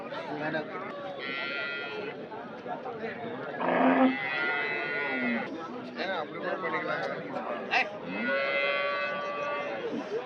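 Cattle moo at the Sunday cattle market in Anthiyur, with drawn-out calls rising over a busy crowd. Nearby voices talk through most of the clip.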